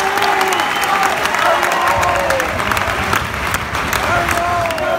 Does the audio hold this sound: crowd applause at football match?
yes